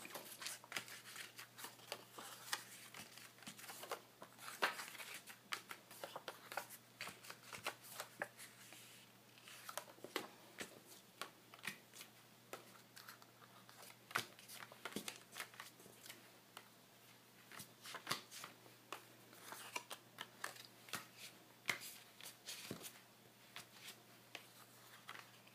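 Quiet, scattered scratchy taps and light scrapes as an index card picks material up off a craft mat, soft, close, irregular ticks with no talk.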